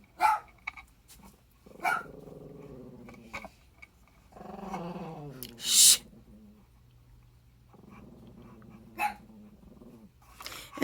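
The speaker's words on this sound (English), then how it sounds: "And a barking chihuahua." A tiny chihuahua with only one tooth, up close, lets out sharp bursts of barking broken by low, rumbling growls and brief pauses, alone without talk.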